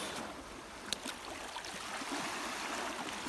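Water splashes and trickles as it is tipped out of a container during a sea fishing trip for sea bream and striped sea bream in Saros Bay, a steady close wash of water with no talk.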